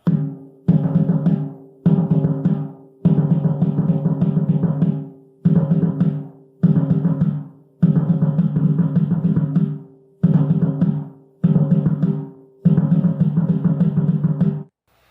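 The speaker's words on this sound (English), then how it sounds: "the low-pitch instruments, we usually call them surdos, and this is like the low drum in a drum kit" A deep surdo bass drum booms in a steady, repeating rhythmic pattern of loud phrases separated by short pauses, with no talking.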